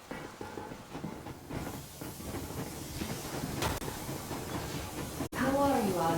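The Yermak train moving at full steam in the Metro Exodus video game, a steady rumbling, hissing rolling noise with a faint rhythmic clatter, quiet throughout, ending with a brief higher tonal sound.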